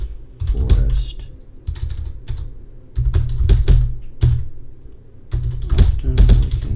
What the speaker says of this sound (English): Hope my typing is not too loud, guys.